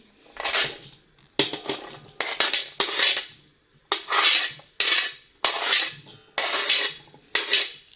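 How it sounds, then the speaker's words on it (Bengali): Raw banana, eggplant and cauliflower pieces are tipped into a cooking pot, giving a series of close, sharp clattering scrapes and knocks, about ten separate bursts with short pauses between them. "কাঁচা কলা, বেগুন আর ফুলকপি একত্রে ঢেলে দিচ্ছি।"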